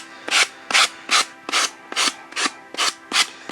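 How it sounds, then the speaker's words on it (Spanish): Fine-grit sandpaper rasps along the edge of a wooden drawer front in nine quick, rhythmic strokes, close and crisp with no talking. "lo hago con una lija de grano fino y también valdría una lima de uñas"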